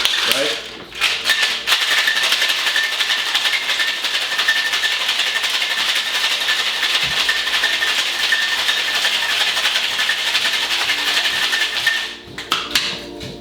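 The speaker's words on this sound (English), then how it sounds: "we're gonna give this a long 10-second shake" Ice rattling hard inside a cocktail shaker during a long martini shake, a dense, steady, loud clatter that runs nonstop for about eleven seconds before cutting off abruptly.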